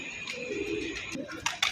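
Pigeons in a loft cooing softly, low throaty coos drifting under a steady high background hiss, with a few brief sharp bursts of wing or movement noise near the end.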